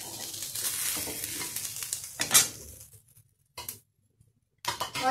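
Katla fish fries in a hot kadhai, a bright, dense sizzle for about two seconds, then abrupt near-silence broken by a few short clatters and bursts of frying.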